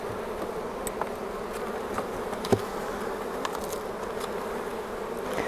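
Wild-caught honey bees buzz steadily at an open hive, a continuous hum with occasional closer passes of individual bees and one brief louder sound midway.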